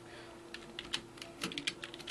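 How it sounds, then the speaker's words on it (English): Quiet, irregular key clicks from typing on a computer keyboard in a bedroom, soft taps scattered over a low steady hum. "That's why I'm typing."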